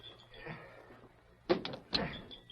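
A door opens and closes as someone enters a deserted mid-afternoon restaurant, with a couple of sharp knocks of the door amid quiet room tone in a radio drama.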